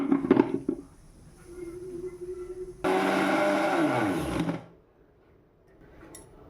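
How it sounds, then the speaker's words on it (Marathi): A mixer grinder whirs loudly for about two seconds grinding coconut, coriander seeds, garlic, coriander leaves and peanuts, then winds down with falling pitch; faint clatter comes before it and near silence after. "मिक्सरमधून बारीक करायचे"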